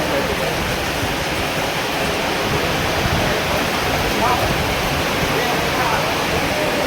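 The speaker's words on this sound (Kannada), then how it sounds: "ಹೆವಿ ರೇನ್ ಮಳೆ ಬರ್ತಾ ಇದೆ ಈಶಾ ಫೌಂಡೇಶನ್ ಹತ್ರ" Heavy rain pours down near the Adiyogi statue at Isha Foundation in Chikkaballapur. A loud, steady, even hiss of falling water continues without pause.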